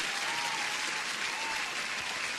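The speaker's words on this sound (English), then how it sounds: "Applause." A loud, continuous burst of crowd applause used as a sound effect during a live futures trading stream, dense even clapping that holds steady from start to finish.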